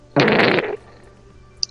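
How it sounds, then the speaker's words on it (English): A single loud, low bubbling burst in the ocean of Terraria on Xbox lasts about half a second, then fades to quiet game ambience with a couple of faint clicks. "Why is it bubbling?"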